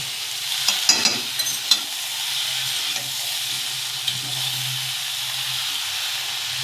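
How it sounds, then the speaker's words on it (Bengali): Dried fish fries with turmeric and salt in a pan, giving a steady, loud sizzling hiss throughout with a cluster of clicking stir taps early on and a few scattered later. "মাছটা ওই জন্য ভালো করে ভাজি যাতে গন্ধটা বেশি না থাকে"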